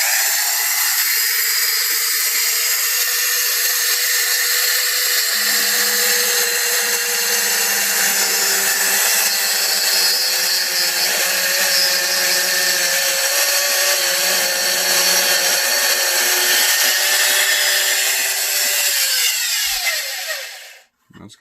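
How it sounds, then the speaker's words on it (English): A router fitted with a keyhole bit plunges into a wooden board, giving a loud, sustained high-pitched whine with a lower cutting tone as the bit moves through the wood, before the motor winds down. "So we're using a keyhole bit on a router"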